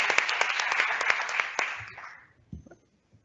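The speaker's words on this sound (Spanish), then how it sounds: "Un aplauso, por favor." Audience applause at a Spanish workplace wellbeing panel, a dense wash of many hands clapping that holds steady, then fades out over the last second to near silence.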